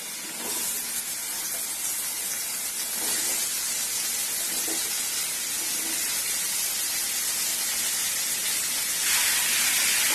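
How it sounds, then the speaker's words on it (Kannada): Bottle gourd palya curry fries in a pan with a loud, steady, unbroken hiss and sizzle lasting throughout, growing slightly stronger near the end. "ಎಲ್ಲ ಚೆನ್ನಾಗಿ ಮಿಕ್ಸ್ ಮಾಡಿಕೊಂಡು ಇದೊಂದು 5 ನಿಮಿಷ ಫ್ರೈ ಆಗಬೇಕು"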